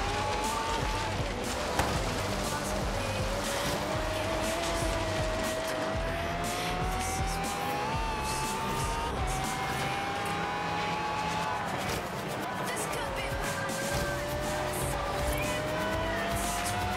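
A Koenigsegg Regera races in Forza Horizon 3, its engine droning loud and steady as the pitch rises and falls through shifts, with occasional tire squeal and rushing road noise.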